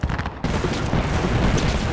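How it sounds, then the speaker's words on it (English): Gunfire in the Apex Legends battle royale game forms a dense, loud, continuous barrage of rapid shots for the whole two seconds, close and unbroken, with no speech over it. "Opening fire on our prey."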